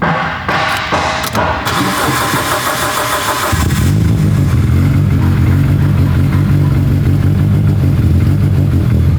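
A car engine cranks with a few sputtering turns, then catches and settles into a loud, steady rumbling idle.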